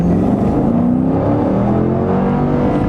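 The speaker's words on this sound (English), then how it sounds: "It'll just sit there on the rev limiter all day long." A 2018 Dodge Durango R/T V8 held against its rev limiter gives a loud, close, sustained high-revving drone with a rapid stuttering pulse and no speech.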